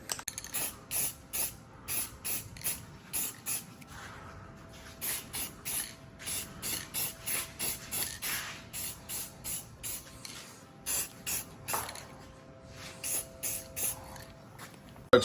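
Short bursts from an aerosol can spray automotive high-temperature primer and white paint onto car wheel hubs, about two dozen hissing pulses in quick rhythmic groups with brief pauses, close and fairly quiet.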